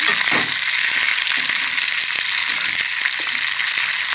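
Potato fry with green chillies sizzles loudly in hot oil in a pan, a dense steady hiss with occasional stirring scrapes and pops, close up throughout.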